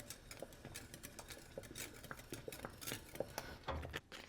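Whisk clattering quickly in a pan as eclair choux dough is worked on the heat, a busy run of close metallic scrapes and taps with no voices.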